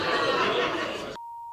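A single steady electronic tone from a lie detector sounds briefly and cleanly right after a burst of laughter and chatter cuts off.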